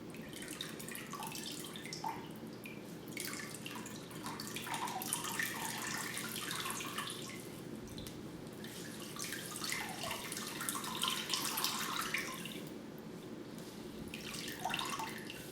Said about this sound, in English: Place it into the water once again.